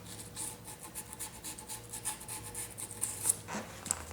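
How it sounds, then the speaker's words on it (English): Sandpaper rubs along the sides of guitar frets during a fret crown and polish, a quiet close rasp of short repeated back-and-forth strokes. "I'm going to use the correct technique here, just to get in and sand the sides."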